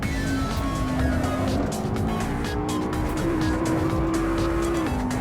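Racing car at full throttle around the Imola circuit in a video game, a loud sustained engine roar holding a steady high pitch with tire squeal, constant and close throughout.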